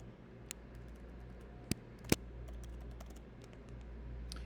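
Light, sparse typing on a computer keyboard while writing code in PyCharm, a few soft key taps with two sharper, louder clicks, over a steady low room hum.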